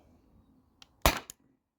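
A single airgun shot fired through a chronograph, powered by an HPA tank, gives one sharp, close crack, framed by a couple of small mechanical clicks in an otherwise quiet room.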